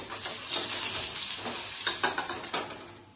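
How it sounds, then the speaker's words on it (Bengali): Bitter gourd (bhatkorla) frying in oil for a mustard-poppy seed curry, with a steady close sizzle and several sharp stirring scrapes and clatters of a utensil in the pan toward the end, no voices. "উল্টে পাল্টিয়ে আমি এখন তুলে নিচ্ছি।"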